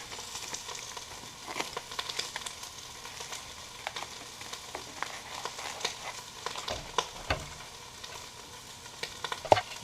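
Chuck roast browning in a black iron pot, a steady low sizzle and crackle with scattered pops and occasional scrapes, fairly quiet and continuous throughout.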